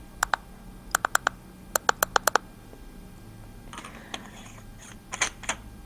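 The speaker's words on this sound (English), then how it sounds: "It's got quite a satisfying click." Tail switch of an Energizer PMHT61 (Tac 1000) flashlight clicking: several crisp, close clicks in quick pairs and bursts, followed by softer handling noise and faint clicks.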